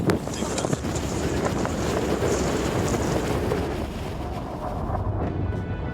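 Strong wind blows steadily around a sailing vessel at sea, a loud, continuous rushing roar with microphone buffeting that eases slightly near the end.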